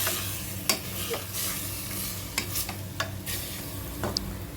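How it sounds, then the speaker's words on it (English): Ingredients roasting in oil in a pan, for a Shami kabab, with a steady soft sizzle broken by several sharp scrapes and clicks of a spoon stirring against the pan, close and fairly quiet. "put some oil, and roast it for about 2 minutes"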